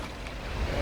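A truck engine in the video game Mudrunner drones steadily at a low pitch, a loud, continuous rumble with no breaks.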